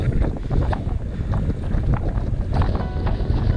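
Strong wind buffets and roars continuously, gusting loudly and close with no speech.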